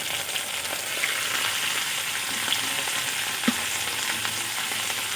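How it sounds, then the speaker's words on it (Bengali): Okra frying in a pan with turmeric and salt over low heat gives a steady, even sizzle throughout, with a few soft stirring clicks and no voices. "হলুদ আর লবণ দিয়ে ভালো করে আমি ভেন্ডিগুলো হালকা হিটে ভেজে নেব।"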